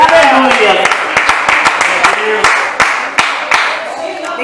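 Church congregation at a Deus é Amor service clapping in rhythm, sharp hand claps over a busy bed of crowd noise and voices, loud and close, with singing or talk running underneath.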